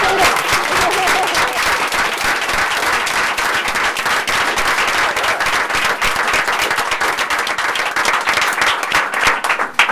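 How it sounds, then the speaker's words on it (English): Dense, loud applause from the audience at a school board meeting fills the room in a continuous roar of many clapping hands that holds steady for ten seconds before breaking up slightly at the end. "I think we need to give Principal Tony Price a round of applause because these are all his students"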